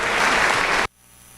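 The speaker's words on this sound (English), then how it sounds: "Let's give him a round of applause." A crowd at a beef cattle showmanship competition gives a loud, dense round of applause for the champion showman, the clapping cutting off abruptly near the end into a quiet room.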